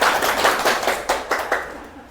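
A small group of students clapping at the start of a real estate theory lecture, a short burst of hand claps that thins into a few scattered claps and fades out.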